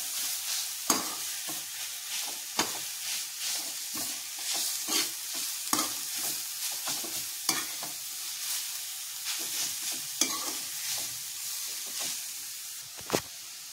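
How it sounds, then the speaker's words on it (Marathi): Food being sautéed in a pan over a low gas flame, with a soft continuous sizzle broken by regular scraping stirs and occasional sharp clinks of the spoon against the pan. "आणि गॅसची फ्लेम आता एकदम बारीक करायची आणि हे व्यवस्थित असं छान असं परतून घ्यायचं"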